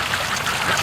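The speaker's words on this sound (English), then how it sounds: "She's got a really small body on her, this duck." A brief, dense burst of quacking from a small duck among a free-range flock by a lake, close and busy with overlapping calls.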